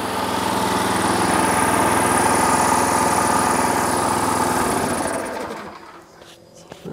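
A semi truck engine idles close by with a steady, rumbling mechanical chug, then is switched off, winding down over about a second into near quiet with a faint thump at the end.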